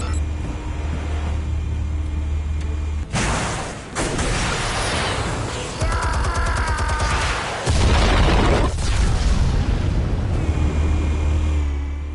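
Armed explosives detonate in the Batman Telltale video game, with two big rumbling booms, one mid-clip and a heavier one later, over a roaring, wind-like background rush.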